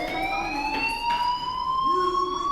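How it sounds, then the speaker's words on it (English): A fire alarm sounds in the Life is Strange video game, a steady, piercing electronic tone holding on with slight pitch drift, moderately loud over a quiet background with a faint voice murmuring briefly. "Hey, do you hear that fire alarm?"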